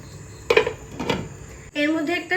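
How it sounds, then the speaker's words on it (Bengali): A lid is set back on a cooking pan holding Bengali hilsa fish curry, giving two close metallic clanks about half a second apart, then a steady humming tone and a voice take over. "আবারও ঢাকনাটা দিয়ে দেব।"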